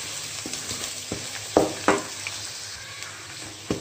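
Onions fry in a pan with a constant gentle sizzle while a spoon stirs them, giving repeated scraping clicks, two louder knocks in the middle.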